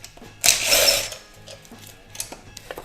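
Hand tools working loose the carburetor plate on an old boat outboard motor: a sharp metallic rasp and clatter, then a few lighter ticks and clicks of fittings being worked, close up and without talk.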